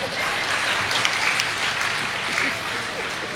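Crowd at a Tamil comedy pattimandram debate applauding, a thick continuous burst of clapping from many people that stays loud and steady throughout.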